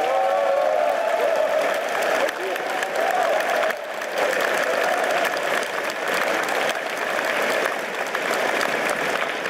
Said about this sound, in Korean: 박수를 한번 보냅시다, 여러분